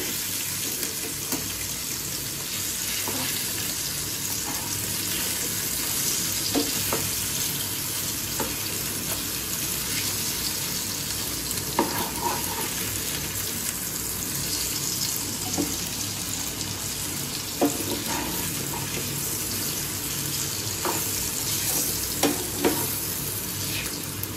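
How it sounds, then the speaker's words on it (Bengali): Food frying in a pan over low heat, a steady moderate sizzle with occasional scrapes and clinks as pieces are turned, running continuously with no voices. "এখন উল্টে দেব, ঠিক এরকম হবে ভাজাটা।"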